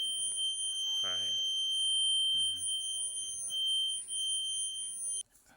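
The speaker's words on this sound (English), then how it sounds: "the conventional fire alarm system" A conventional two-zone fire alarm system's sounder rings with a steady, piercing electronic tone that holds loud and unbroken, then cuts off abruptly near the end, while a person talks briefly over it.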